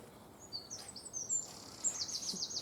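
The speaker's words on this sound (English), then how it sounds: "And the squawking continues." Birds squawking and chirping in woodland: a string of faint, high, thin calls, some repeated in quick runs, over quiet outdoor background with no talking.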